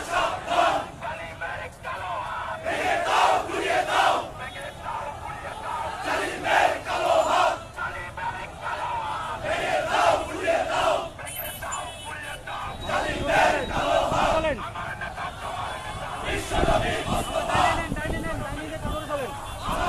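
A large, angry crowd of protesters in Bangladesh roars and chants in surging waves of massed shouting, loud and sustained from start to finish.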